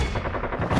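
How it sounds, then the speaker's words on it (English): Gunfire crackles in a quick, dense burst of sharp reports, loud and close in a brief stretch with no pause between the shots. "I hear gunshot."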